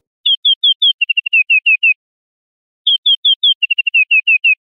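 Synthesized birdsong from a Propellerhead Thor synthesizer patch. Two identical phrases of quick, high, downward-sliding chirps, each with a fast flurry in the middle, are separated by a short silence and play clear and close.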